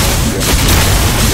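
Xenon's Particle Accelerator skill fires in MapleStory as a loud, dense, booming energy blast that stays sustained and heavy throughout.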